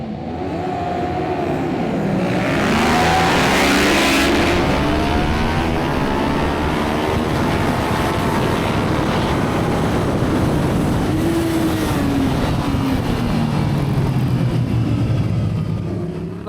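A Suzuki SV650 race bike, rebuilt from a write-off, screams along a race track, the engine note rising and falling steadily through gear changes, loud and continuous with heavy wind rush and no talking.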